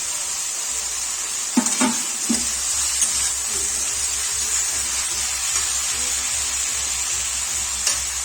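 Minced chicken and chopped tomato frying in spiced masala for chicken ghugni, a steady close sizzle with a bright hiss, broken by a few scraping stirs of the spoon against the pan, no talking.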